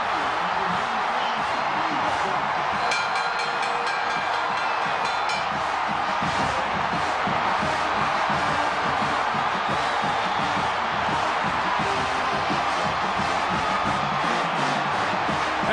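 Roaring football stadium crowd cheering after a safety in a 2008 Texas at Texas Tech college game, a dense, sustained wall of voices and whoops at full volume throughout.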